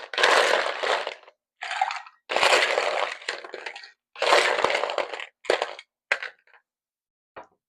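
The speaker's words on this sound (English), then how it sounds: "we're going to fill our shaker tin up to the top with ice and shake until it is ice cold" A cocktail shaker tin packed with ice shaken hard in several bursts, loud rattling crunches separated by short pauses, the bursts getting shorter and fainter toward the end.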